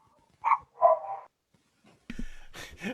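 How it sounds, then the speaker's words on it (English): A dog barks indoors in a few sharp, close woofs, two quick barks then a pause followed by a rougher burst of barking, loud and alone without talk. "My idiot dog barking at nothing."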